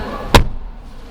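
A 2022 Chevrolet Tracker LT Redline car door swings shut with a single solid, close thud that fades quickly into quiet.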